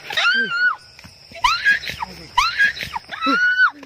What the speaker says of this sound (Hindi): ऐसे कौवे मारने वाली चीखी मार रही है